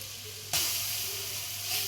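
Coconut milk hits a hot pan of fried prawns, setting off a sudden loud, steady sizzle and hiss that starts abruptly partway through and carries on close up to the end.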